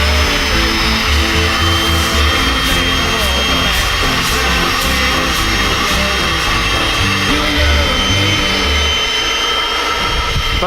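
A car-detailing extractor vacuum roars close and constant while a car floor is scrubbed and sucked clean, a harsh loud whine that never lets up.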